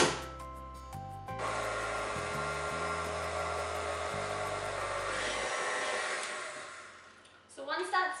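An electric mixer drones steadily as flour is mixed into vanilla cupcake batter in a bowl. It runs continuously for about seven seconds, then stops.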